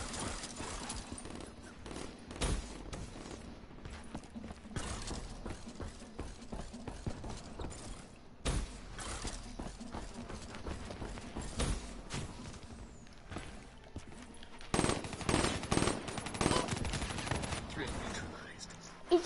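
Video-game gunfire in a gunfight crackles in repeated bursts and single sharp shots throughout, louder volleys clustering toward the end, with clattering mechanical sounds mixed in.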